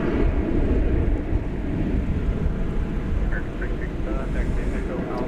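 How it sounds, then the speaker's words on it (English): A Qatar Airways airliner takes off at Dallas Fort Worth airport, a broad, steady rumble of engine noise at a constant level, with people talking over it. "So we will see Qatar taking off from our side of the field."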